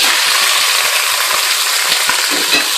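Beef chunks browning in hot olive oil in a stew pot, a loud continuous sizzle and crackle with occasional stirring scrapes, close by with no talking.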